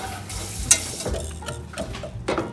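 Butter being worked with a whisk in a bowl by kids cooking, heard as close, irregular scraping and clinking strokes over a low background hum, with a couple of sharper taps against the bowl.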